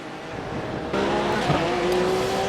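GT3 race car in a sim racing game taking La Source hairpin at Spa-Francorchamps, engine note rising steadily with a sharp onset and sustained loud tone, close and continuous.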